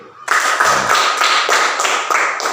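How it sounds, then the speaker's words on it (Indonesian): A short burst of applause from a small group of primary school pupils in a classroom, steady clapping that starts abruptly and continues evenly, nearby. "tepuk tangan untuk kelompok 1 dulu"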